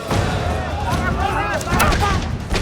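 Rifle and pistol gunfire in a battle, as revolver-armed riders fight Mexican soldiers with standard rifles: a steady close barrage of overlapping shots and booms, with shouting voices mixed into the din.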